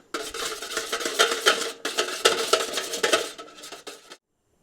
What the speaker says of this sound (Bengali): এরপর এই ক্রিমটি আমি কিছুক্ষণ বিট করে নিচ্ছি যাতে ক্রিমটি ফুলে ওঠে।